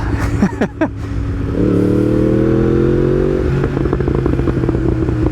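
A Yamaha R1M sport motorcycle engine while riding, a loud close engine note that holds a steady drone, then drops back under wind rush and clatter, with no talk over it.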